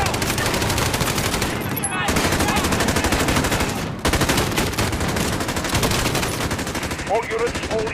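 Sustained machine gun fire in the video game Call of Duty Modern Warfare, loud rapid bursts rattling almost continuously with brief gaps, under in-game chatter.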